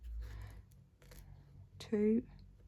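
Scissors make a brief, quiet snip through a paper journal card at a crafting table, a single short cut after a stretch of soft handling noise.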